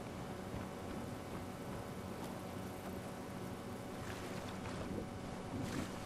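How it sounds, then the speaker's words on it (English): Waves rolling onto a beach in modded Skyrim on PS5, a steady broad wash of surf and wind-like rushing noise with gentle swells, continuous and loud, with no voices. "the water is looking way more blue and alive, with waves crashing into the beach"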